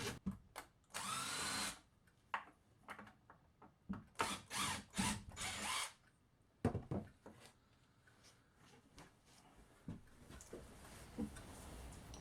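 A power drill backs a screw out of a wooden Moxon vise under a bench in short, whirring bursts separated by pauses, with quieter clicks and handling noises between them.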